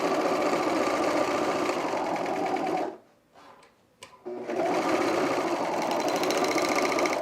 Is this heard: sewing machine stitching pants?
yes